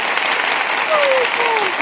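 A canned applause effect plays for an online music show's special guest, continuous uniform clapping at steady loudness with a voice sliding briefly over it.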